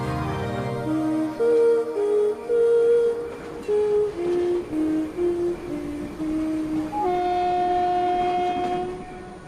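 Shivalik Express, a luxury train on the Indian railway line to Shimla, sounds a long series of horn blasts, separate toots at first, then one sustained tone, over rolling wagon rumble close by.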